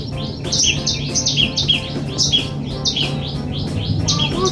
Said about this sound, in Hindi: बाहर अभी काफ़ी सारी चिड़िया पेड़ों पर बोल रही हैं,